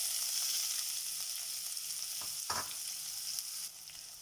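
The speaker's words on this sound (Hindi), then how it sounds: "प्याज को अच्छे से भून लेंगे।" Onions fry in hot oil with cumin seeds, hissing steadily up close with a couple of soft spoon knocks and stirring sounds midway, no voices.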